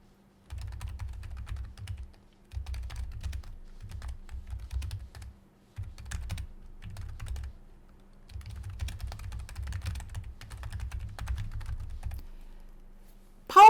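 Keystrokes on a computer keyboard, including Shift and Enter presses, tapped in quick bursts separated by short pauses, close and fairly clear with no voices.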